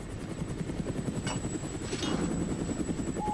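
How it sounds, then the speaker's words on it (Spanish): Helicopters passing in the video game Chernobylite, a steady rotor thrum that holds throughout and swells slightly toward the end, with no talk over it. "¿Pasan los helicópteros?"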